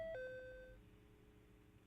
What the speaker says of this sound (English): the doorbell rang